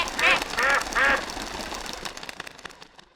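A duck gives three loud, close quacks in quick succession, followed by fading rattling noise.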